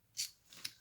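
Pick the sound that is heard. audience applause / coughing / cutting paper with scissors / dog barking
cutting paper with scissors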